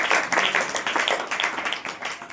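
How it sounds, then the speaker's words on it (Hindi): A church congregation claps steadily and continuously, a dense patter of many hands close by with no pauses. "बोले यीशु मसीह की जय। ताली बजाकर"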